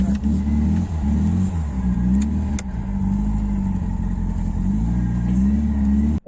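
A 1993 Tofaş Şahin's engine revs loudly and steadily up close, its pitch rising and falling in waves throughout, with a couple of brief knocks partway through before it cuts off at the end.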